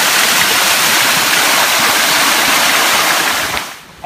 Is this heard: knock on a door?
no